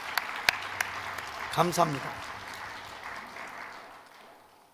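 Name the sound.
congregation applause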